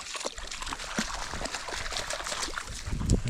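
Water trickling and splashing steadily in a mountain stream, with faint lapping sounds of a husky drinking close by.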